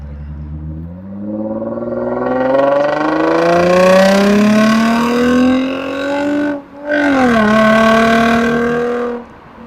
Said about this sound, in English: Does the Lexus RC 350 sound good at all? Like, should I get this?